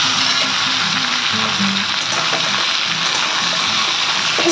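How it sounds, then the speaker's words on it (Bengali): Loud, continuous sizzling and crackling of potatoes and pumpkin frying in hot oil, a dense hiss that stays even throughout with no speech. "তারপর এবার দেবো আলু কুমড়োগুলো। এবার এগুলোকে না ভালো করে ভেজে নিতে হবে।"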